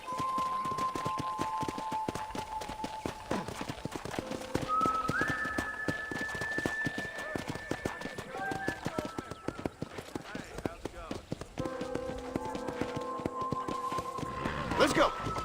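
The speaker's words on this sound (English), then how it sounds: "let's see if you can still ride a horse" A horse ridden at a steady gait in the Red Dead Redemption video game gives a continuous rhythmic clip-clop of hooves, with tonal music and whistles layered over it throughout.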